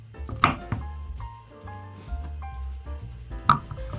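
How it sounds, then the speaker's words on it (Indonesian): A knife slicing garlic and shallots on a board, with two crisp cuts and a few softer taps against steady background music. "Selanjutnya aku iris bawang putih dan bawang merah."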